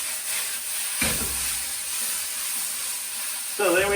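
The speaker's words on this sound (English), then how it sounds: "sizzle, sizzle, sizzle." Chicken chow mein with noodles frying in a hot pan, giving a steady close hiss of sizzling throughout, with a voice briefly speaking near the end.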